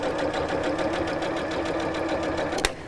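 Up close, a sewing machine stitches fabric binding with a steady, rapid rhythmic whir, followed by a single sharp click near the end.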